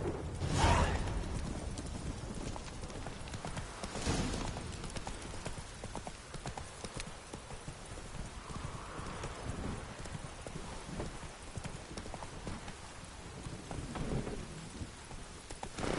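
A horse trots in The Witcher 3 game, its hooves clip-clopping steadily close by while rain falls and low thunder rumbles in the background.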